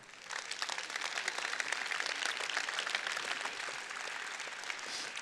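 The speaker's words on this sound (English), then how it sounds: "And I think he deserves a round of applause." Audience at EVE Fanfest 2022 gives a round of applause, dense steady clapping from a crowd filling the room for several seconds, fairly even in loudness before easing slightly.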